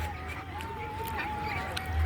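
Ducks on a large canal at a duck farm give off a few nasal honking quacks amid a steady outdoor hum, close by and moderately loud.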